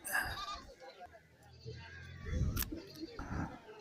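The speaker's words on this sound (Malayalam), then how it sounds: "നല്ല കറവയുള്ള ആടാണ് അതിൻ്റെ കുട്ടികളുമാണ്" Goats and young kids bleating at a Kerala goat market, a few short cries close by amid crowd chatter and people talking.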